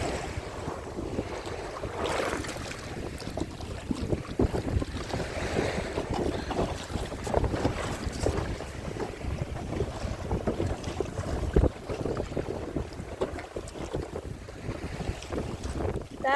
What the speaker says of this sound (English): Wind's starting to pick up.